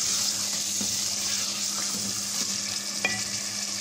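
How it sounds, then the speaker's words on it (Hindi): Chicken fries steadily in a pan over a medium flame for Lahori murgh cholay, giving a loud, continuous sizzle. A few scraping stirs sound close by, and no one speaks. "चिकन को इसमें हम अच्छी तरह फ्राई कर लेंगे"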